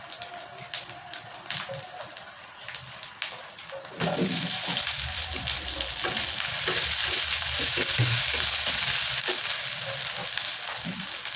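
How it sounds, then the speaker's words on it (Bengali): Ginger-garlic paste fries in a pan for an egg and potato curry, with spoon clinks at first, then a loud, steady sizzle from about four seconds on, stirred with repeated scraping strokes. "আদা রসুনের পেস্টটা দেওয়ার পরে আমি আদা রসুনটাকে একটুখানি ভেজে নেব"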